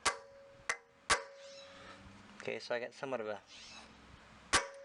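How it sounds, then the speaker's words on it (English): Several sharp metallic strikes of a hammer hitting a center punch, marking a spot before drilling with a 3/16 drill bit, three early then one more after someone speaks briefly, each ringing faintly. "what I have is a center punch and a hammer."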